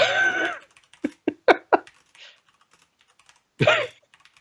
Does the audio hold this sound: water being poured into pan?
no